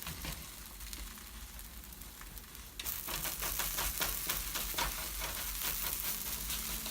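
Pupusas of chicharrón and cheese frying in oil on a griddle, a steady close sizzle that jumps louder partway through and keeps crackling densely.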